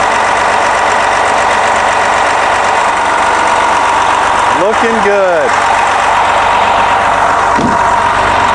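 Detroit Diesel DD13 engine idling in a 2014 MCI J4500 highway coach with the engine compartment open, a loud, steady close-up diesel drone while someone talks briefly over it.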